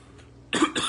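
A man coughs twice in close succession, two short harsh bursts up close after a quiet moment, during a live gospel and country singing session.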